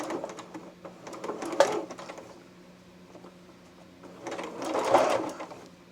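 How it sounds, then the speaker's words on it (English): A sewing machine zigzag-stitches along a seam allowance at a romper neckline, two close, loud bursts of rapid mechanical stitching separated by a quieter pause. "I'm going to just zigzag this onto the seam allowance"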